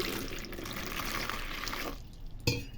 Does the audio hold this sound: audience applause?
no